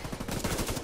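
Rapid automatic gunfire in Tom Clancy's The Division 2, a dense continuous rattle of close, loud shots with no pauses.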